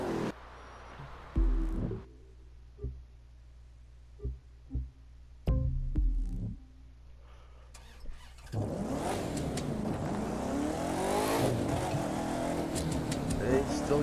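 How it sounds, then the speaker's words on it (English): An off-road car in the racing game The Crew 2 starts and revs, then settles into a steady engine drone, with a few thumps and a voice talking over the quieter opening. "They still got that same kind of engine sound to them."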